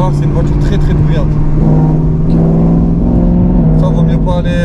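A BMW M5 with a V10 engine drones loudly and steadily from close by, its pitch stepping up a few times, while people talk over it.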